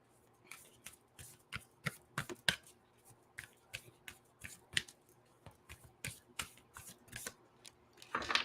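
A deck of oracle cards being shuffled by hand, with quick crisp riffles and flicks repeating close up in an uneven rhythm, with no voice and a louder flurry at the very end.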